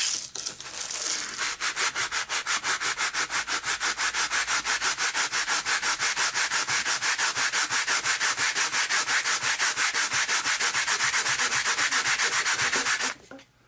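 Rapid, rhythmic back-and-forth hand rubbing of sandpaper on a part of an F-86 RC model airplane, steady and close, continuing for several seconds before stopping abruptly.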